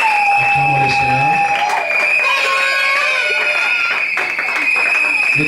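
A wedding congregation applauding and cheering loudly in a dense, sustained roar of claps and shouts, with high ringing tones and voices mixed in throughout.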